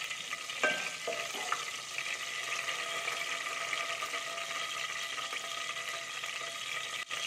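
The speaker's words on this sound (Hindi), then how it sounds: "साथ ही अपना हम अपना जो जीरा है वो ऐड कर देंगे, सफ़ेद जीरा। साथ ही इसको चलाएंगे।" White cumin seeds fry in hot oil in a pan while being stirred, a quiet continuous hiss and sizzle with a few light scrapes and clinks early on, no voices.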